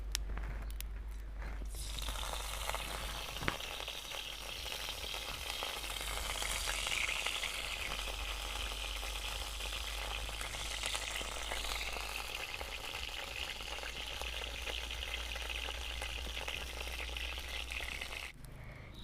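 Mustard oil sizzles steadily in a hot wok before frying red leafy greens, a continuous loud crackling hiss that runs without a break and cuts off sharply at the end.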